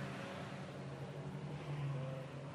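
A GT4 race car spinning off at the Most circuit in Czechia, with steady engine drone and a low tonal rise as the revs climb, fairly loud and continuous with no voices.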